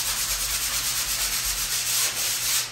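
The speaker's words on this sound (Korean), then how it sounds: "핫 아이템인 사포를 들고 갈아주기 시작합니다" Coarse sandpaper is rubbed by hand across a surface during flooring work, making a steady, close scratching rasp with a gentle stroke rhythm that continues throughout without any talk.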